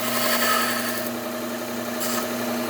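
A hunting knife being sharpened along its bevel, a continuous steady grinding hum from a powered sharpener with a strong tonal drone and brief rasping swells.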